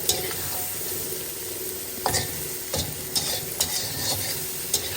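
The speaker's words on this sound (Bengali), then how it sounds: "ভাজা ভাজা করে নেব। সেটা ইটাও হোক, চিংড়ি হোক।" Shrimp and cauliflower fry in a pan with cumin, a steady sizzle broken by several sharp clinks and scrapes of stirring.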